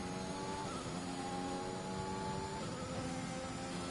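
Race car in a sim racing game at Bahrain, accelerating hard out of a corner, its engine note climbing steadily in pitch across several seconds, loud and continuous.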